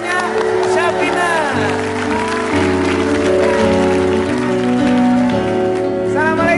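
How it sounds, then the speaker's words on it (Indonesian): A studio audience claps for a grandmother during a TV game show, with steady applause running under loud music and voices. "tepuk tangan buat neneknya, Syafina"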